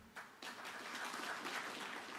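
A university audience at an innovation and exhibition week gives a round of applause, a soft, distant wash of clapping that begins in a few quick bursts and holds steady.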